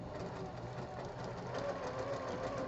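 A sewing machine runs steadily, stitching back over a quilt block seam through a bulky spot, a continuous even mechanical whir at moderate level with no talk.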